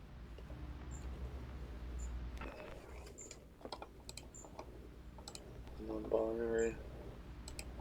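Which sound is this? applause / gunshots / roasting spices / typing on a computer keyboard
typing on a computer keyboard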